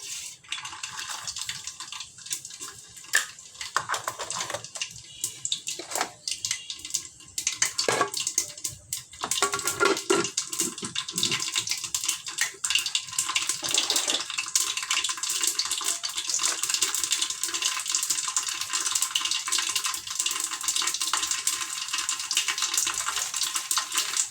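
Mustard seeds and urad dal spluttering in hot oil, a dense continuous crackle and sizzle with scattered sharp pops, close and fairly loud, no talking.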